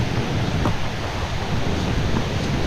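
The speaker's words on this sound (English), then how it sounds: "It's a beautiful little stream here." Muddy Creek, a small stream, rushes in a steady broadband wash of flowing water with a slight wind-like hiss, continuous and fairly loud without any talking.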